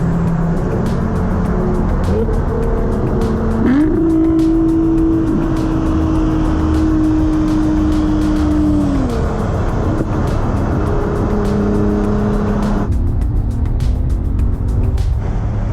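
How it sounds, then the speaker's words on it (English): A Nissan GTR and a Bugatti race, their engines roaring loud and close in a sustained rising drone that holds steady, then drops away and rises again as they pull off. "I think the GTR and the Bugatti about to run."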